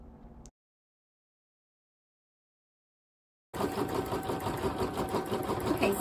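A Brother PE770 embroidery machine stitches on cotton clothesline rope. After a brief noise and about three seconds of silence, a loud, steady mechanical whirring starts and runs on without a break, close by, with no talking.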